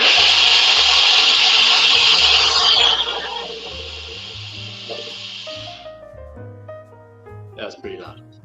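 A kitchen blender whirs loudly up close for about three seconds, then winds down and cuts off, leaving quiet clatter and faint background voices.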